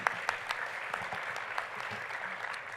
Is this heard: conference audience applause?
yes